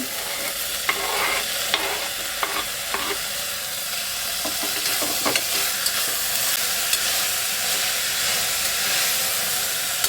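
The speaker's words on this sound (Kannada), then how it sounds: "ಉಪ್ಪು ಹಾಕಿದ್ಮೇಲೆ ಒಂದು 2 ನಿಮಿಷ ಸ್ವಲ್ಪ ಫ್ರೈ ಆಗಲಿ" Vegetables and tomato fry in a pan for paneer kadai, a loud, steady sizzle with hissing steam and occasional stirring clinks, close by and without talking.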